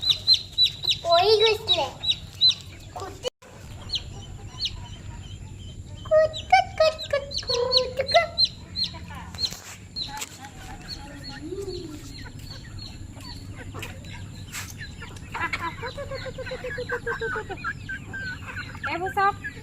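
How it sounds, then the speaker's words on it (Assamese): Local backyard chickens cluck and call repeatedly at close to moderate distance, a busy flock chattering over a low rural hum, with a person speaking briefly among them. "এইবোৰ চব মোৰ ভাগৰ লোকেল মুৰ্গী"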